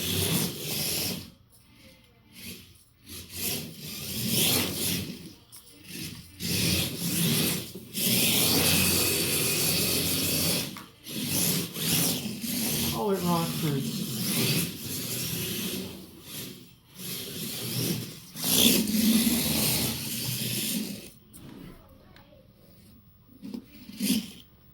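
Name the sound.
1/28 scale RC drift car sliding on hardwood floor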